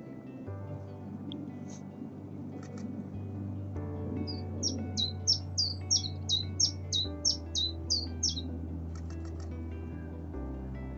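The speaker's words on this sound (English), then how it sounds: "So just up there, we've got a Chiff Chaff. He's quite vocal." A chiffchaff calls from a tree at an RSPB marsh reserve, a run of about ten clear, evenly spaced two-note chirps from moderate distance over low steady background hum, with a few fainter calls before and after.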